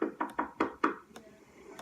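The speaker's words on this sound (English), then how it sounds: "the knock at the bedroom window." Several sharp knocks on a bedroom window at night, a quick run of five raps at close range followed by two fainter taps, with no talking.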